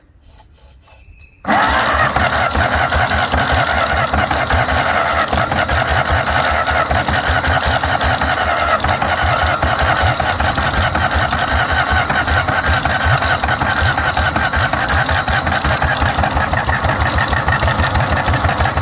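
An old 1953 Ferguson TO-30 tractor engine, unused for 15 years, starts up and runs steadily with a fast, rhythmic chugging and clatter, loud and close, continuing without pause.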